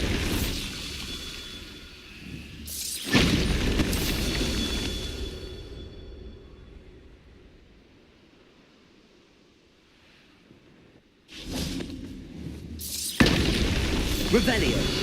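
Confringo and Bombarda spells in the Hogwarts Legacy video game burst in loud crashing explosions, one early blast with a long fading rumble, then two more blasts near the end, with talk in between.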